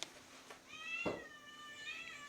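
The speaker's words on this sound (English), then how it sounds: "I don't know if you can hear the cats back there" Cats meow outdoors at a quiet, peaceful rural ranch, with several drawn-out, wavering calls overlapping at moderate distance.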